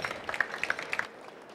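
Scattered, light hand claps from a small audience at a scientific presentation on carbon supports for electrocatalysts, a handful of quiet, close-together claps that thin out and stop after about a second.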